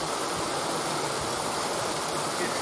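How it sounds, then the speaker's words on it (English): Running water rushes steadily and loudly in the background, an unbroken broadband hiss with no pauses from start to finish. "Can you guys still hear that water?"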